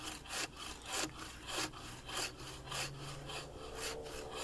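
A handsaw cuts through a hard, insect-damaged log in regular rasping strokes, about seven or eight pulls, moderately close and fairly quiet, with no voices.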